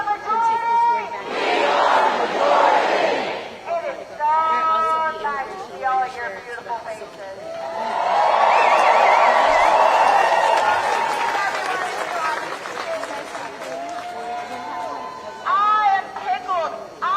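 A crowd at a rally cheers in two big swells, the first brief and the second longer and louder, with people talking close by in between.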